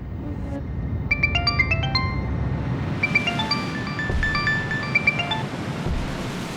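A phone rings with an incoming call, playing two short melodic ringtone phrases over a steady rushing background noise.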